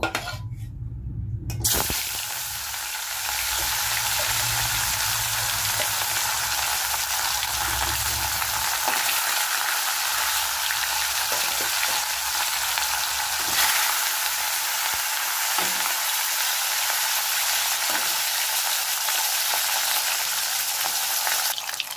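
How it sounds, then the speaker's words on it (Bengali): Katla fish pieces fry in hot oil, a loud dense crackling sizzle that holds steady for about twenty seconds after a brief quieter start, with scattered spits and pops and no talking. "এবার আমি মাছটা ভেজে নেব।"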